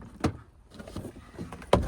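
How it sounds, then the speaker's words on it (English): Front door panel being ripped off a 2009-or-later Pontiac Vibe or Toyota Matrix, heard as two sharp cracking pops of plastic clips snapping loose, one early and one near the end, with quieter scraping and rustling between them. "you just rip the door panel off."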